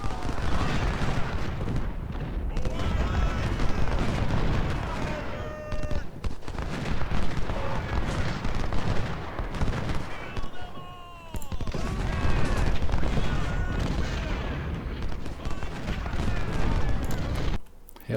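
Civil War troops in the Ultimate General: Civil War video game fire dense, rolling volleys of musketry with booming blasts, continuous and loud, while a voice talks over the battle.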